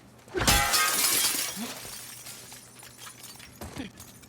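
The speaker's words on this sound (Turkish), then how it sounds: "İlla camı kırmayayım diyordum ama." A glass window shatters in The Last of Us Part II, a loud crash with tinkling shards falling for a second or two, followed by scattered debris clinks.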